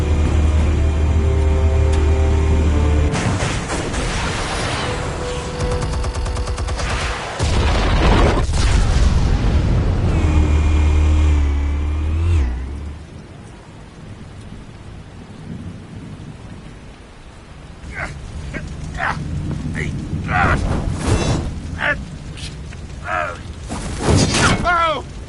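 Explosives detonating in the Batman Telltale game, heavy rumbling booms with crashing, shattering debris in several loud bursts, then quieter stretches with sharp cracks, voices speaking in between.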